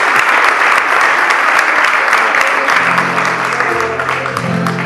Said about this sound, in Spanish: Gracias, un aplauso para él